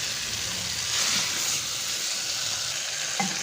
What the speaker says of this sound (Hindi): मिक्स करने के बाद मैं अब इसको 2 से 3 मिनट इसको अच्छी तरह भून लूँगा